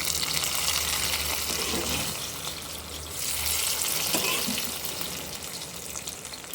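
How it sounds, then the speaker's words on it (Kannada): Oil being added to a hot smoking pan while cooking black-eyed pea sambar, a loud, close, continuous sizzle and crackle that surges in waves, alone without talk. "ಎಣ್ಣೆ ಹಾಕ್ತಾ ಇದ್ದೀನಿ."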